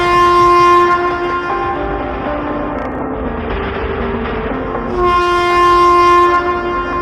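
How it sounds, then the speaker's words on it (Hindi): A train sounds its horn as it comes to a sudden stop: loud, sustained harmonic blasts, one at the start and another near the end, over the steady rumble of the rail cars, with no voices. "ये लोग बातें कर ही रहे थे कि तभी अचानक ट्रेन रुक जाती है।"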